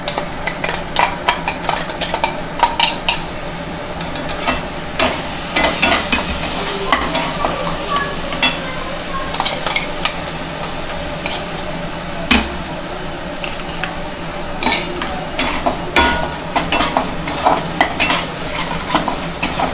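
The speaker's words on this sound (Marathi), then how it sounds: "टोमॅटोची प्युरी घालून अजून एकदा मसाला चांगला परतून घ्यायचा तेल सुटेपर्यंत" Onion-coconut masala with tomato puree is sautéed in oil in a pan for shev bhaji, a continuous sizzle broken by frequent sharp scrapes and taps of a spatula against the pan.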